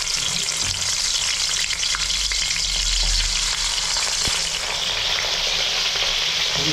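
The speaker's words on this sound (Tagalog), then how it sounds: "Prito na po tayo." Oil sizzles and crackles steadily as fish fries in a pan, with a faint low rumble underneath and occasional small pops.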